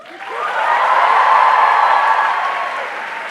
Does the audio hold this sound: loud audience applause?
yes